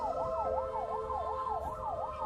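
A wailing vehicle siren sweeps up and down in a fast, regular yelp pattern, loud and fairly close, with a low rumble of traffic beneath and no speech.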